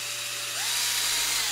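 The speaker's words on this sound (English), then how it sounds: "So I'm going to drill a hole over here." A power drill bores a hole into a silk tree branch, its motor whine rising in pitch as it spins up and then holding a steady, close, loud buzz for the remaining second.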